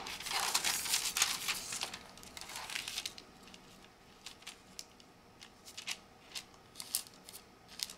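Wax paper and design paper folded by hand for favor bags: a loud, continuous crinkling and rustling at first, then quieter scattered crackles and soft taps, close by.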